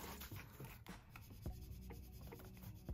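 A gift card rubbed firmly over a punched paper tab in a craft setting, a close, continuous dry scraping and rasping with a few sharper scratches, heard alone without speech.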